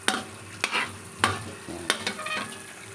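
Butter melting in a pan for a tofu and chicken dish: a light sizzle runs underneath a few sharp clinks and scrapes of a utensil against the pan, spaced roughly every half second to second, close and fairly loud.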